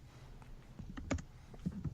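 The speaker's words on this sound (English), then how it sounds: "Dave is typing out his thoughts" Someone types on a computer keyboard during a podcast recording about the Oscar race: a faint, uneven patter of key clicks with a few louder taps, close to the microphone and without any talk.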